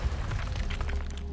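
An Incendio fire spell is cast in Hogwarts Legacy: a loud, low, booming roar of flame with crackling, popping bursts that sustains for just over a second.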